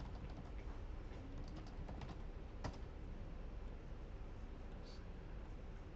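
Keys tapped on a computer keyboard at a desk, a few faint scattered clicks with one sharper stroke, low and quiet over steady room hiss.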